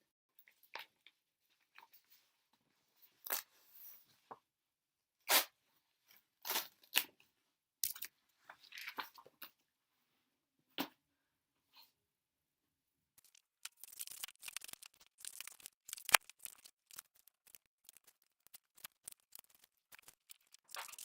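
Scissors snip through paper number cards from a math workbook, a series of short, sharp cuts with pauses between, growing quicker and denser toward the end; close and fairly quiet, with no voices.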